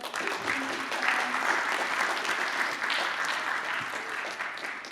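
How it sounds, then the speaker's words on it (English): Steady audience applause at a film festival, a continuous wash of many hands clapping at moderate distance, with faint crowd murmur underneath. "Let's give one more round of applause for"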